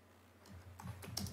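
Keystrokes on a computer keyboard tap out in a quick, irregular burst during a committee meeting, growing busier toward the end, with low room hum beneath and no speech.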